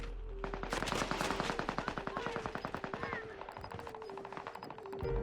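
Rapid automatic gunfire from a shooter video game crackles in steady, fast bursts, loud and continuous, with brief shifts in rhythm and a short pause near the end.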